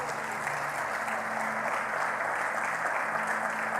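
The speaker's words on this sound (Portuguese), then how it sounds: "Você pode aplaudir a Deus pela palavra dele?" A church congregation applauds during a sermon, producing a dense, even roar of many hands clapping together at moderate volume throughout.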